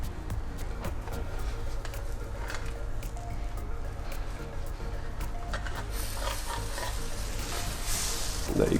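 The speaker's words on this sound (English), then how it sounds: "So what I'm going to do now is I'll give it a flip." A pancake sizzles steadily in a hot pan after being flipped, a constant close hiss with faint utensil ticks, growing slightly louder near the end, no talking.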